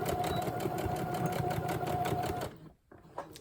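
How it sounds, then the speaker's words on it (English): A sewing machine back stitching fabric for a pocketed envelope, running loud and fast with a rapid mechanical whir for about two and a half seconds, then stopping with a brief soft clunk. "We're going to back stitch."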